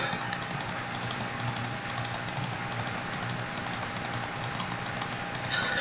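A computer mouse clicks in quick bursts of sharp, close clicks that repeat irregularly over a steady background hum, with no voices.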